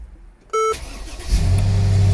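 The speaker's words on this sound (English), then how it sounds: "it's got an awesome sound from the engine, twin turbo V8." A 2016 Mercedes-Benz GL550 4Matic with a twin turbo V8 starts up: a short electronic beep, then the starter cranks and the engine catches into a loud, steady, deep idle rumble nearby.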